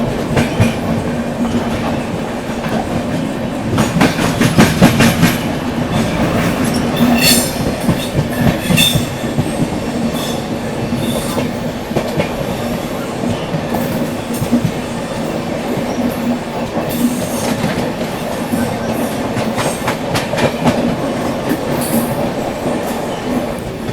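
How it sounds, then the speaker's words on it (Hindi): The AP Sampark Kranti train passes alongside on the adjacent track, a sustained rumble of wheels with rhythmic clickety-clack and brief squeals, loud and close throughout with no talk. "एपी संपर्क क्रांति बगल से क्रॉस हो रही है, ये एपी संपर्क क्रांति।"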